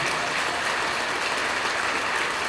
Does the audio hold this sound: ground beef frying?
no